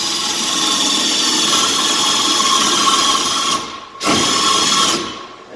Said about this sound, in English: And drill down in to about where the collar on the speed bit stops.